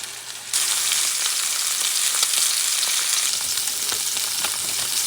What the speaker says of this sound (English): let it sizzle. Don't move it, don't touch it, leave it alone because we want that golden crust